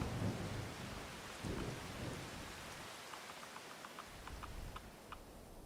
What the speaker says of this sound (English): I need the rain to stop